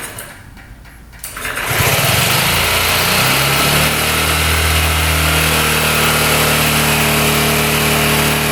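A small scooter engine with a previously kinked gas line fires up after a second of quiet and settles into a loud, steady, buzzing run that carries on close by.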